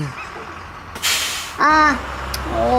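A city bus pulls to a stop with a loud burst of air-brake hiss lasting about half a second, followed by higher tonal whines and beeps over a steady low engine rumble.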